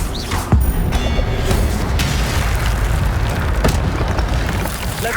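The Incendio fire spell from Hogwarts Legacy goes off in a loud, booming burst, followed by a dense, roaring rush of flame and effects that holds steady for several seconds, with a few sharp cracks along the way.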